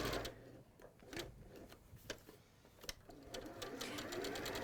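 A domestic sewing machine stitches a quarter-inch seam around the raw edge of a Christmas craft piece, giving a soft, fast mechanical rattle with clicks at irregular points. The running is quiet and close, with no speech.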